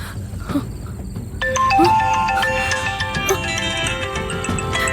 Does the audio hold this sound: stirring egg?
no